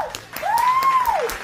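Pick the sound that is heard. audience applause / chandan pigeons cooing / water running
audience applause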